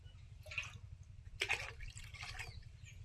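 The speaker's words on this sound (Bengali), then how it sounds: "সমস্ত সবজি কাটা ধোয়া হয়ে গেল, এবার জল দিচ্ছি, চাউমিন সেদ্ধ করবো।" Water is poured into a pot for boiling chowmein, heard as faint, intermittent splashing and trickling over a low steady hum.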